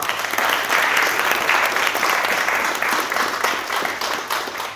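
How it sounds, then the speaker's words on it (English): Sustained applause from an audience at a postgraduate student roundtable during a postgrad expo, a dense, steady wash of many hands clapping at even loudness throughout. "if we want to give them a round of applause there quickly"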